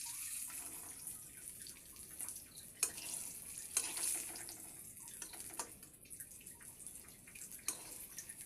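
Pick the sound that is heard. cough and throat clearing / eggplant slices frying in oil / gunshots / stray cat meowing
eggplant slices frying in oil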